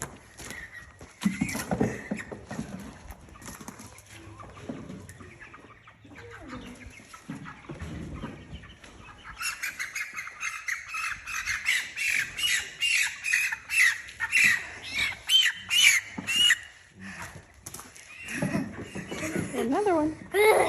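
Meat chickens squawk loudly and frantically while being caught and handled outdoors, in dense bursts of close, repeated calls with people talking between them.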